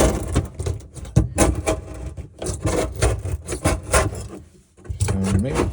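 A hand scraper scrapes old material off the deck of a flats boat in rough, rasping strokes. The passes come close and fairly loud at an uneven rhythm, with one short pause near the end before the scraping starts again.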